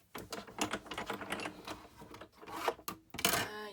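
Cut and emboss machine running during card making, giving a busy stream of close, dense clicks and clatters with a few sharper knocks near the end, and no talking.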